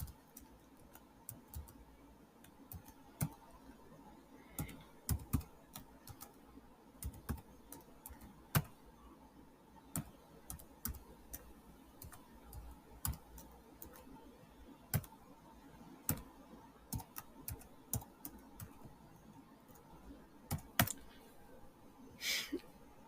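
Programming code is typed on a computer keyboard, with irregular sharp key clicks and occasional louder taps spread over a long stretch against a faint background hum.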